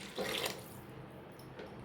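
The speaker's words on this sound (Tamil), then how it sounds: "இன்னும் கொஞ்சம் தண்ணி நான் சேர்த்துக்கிறேன்." Water is poured into a simmering South Indian fish curry (meen kuzhambu), a brief, soft splash near the start that fades to a quiet background.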